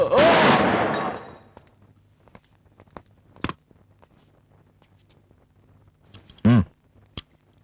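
Gunfire in a Tamil action movie scene: a loud, sustained burst at the start, then a few sharp isolated shots spread over the following seconds, with a voice crying out between them.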